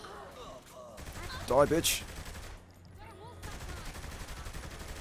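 Bursts of gunfire from the video game Saints Row The Third crackle in short volleys amid game effects, while someone shouts and talks over the shooting.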